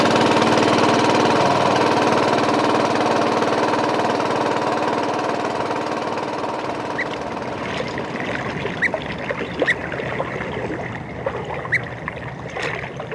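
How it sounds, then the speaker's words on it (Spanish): Small motorboat engine running on Lake Titicaca, a steady loud droning hum with churning water that eases slightly midway, when a few faint sharp clicks and splashes come through. "Oscar Limachi nos ha traído, en su pequeña lancha de motor, a recorrer parte del lago menor del Titicaca"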